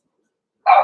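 A Cavalier King Charles Spaniel puppy lets out a single short, loud, close bark after a moment of silence.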